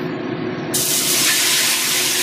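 Loud, sudden hiss of floured tofu hitting hot oil in a wok, jumping into a sustained, intense sizzle that continues to the end.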